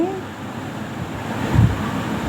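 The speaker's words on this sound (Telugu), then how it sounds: "చాలా అంటే చాలా మంచి గాలి వస్తుంది" Steady village wind during evening rain, rushing and buffeting against the microphone, a low continuous roar with a brief stronger gust near the end.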